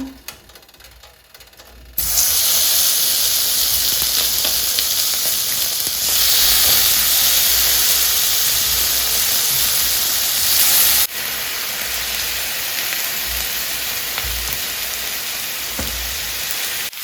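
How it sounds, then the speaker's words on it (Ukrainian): Loud, continuous sizzling of chicken drumsticks frying in a hot pan, bright hissing that jumps up after a quiet start and stays strong throughout. "Поки смажиться друга партія м'язка"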